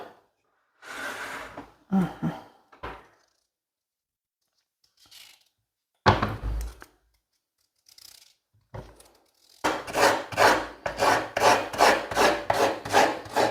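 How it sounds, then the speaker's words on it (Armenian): Carrot is cut with a knife on a board in short bursts, ending in a run of quick, rhythmic chopping strokes, close and crisp, with silent pauses between. "Կտրեցի գազարը"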